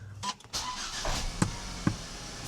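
A Volvo V70 T5 engine is started after repair work, a short crank followed by a couple of sharp thumps as it catches, with a low running rumble beneath.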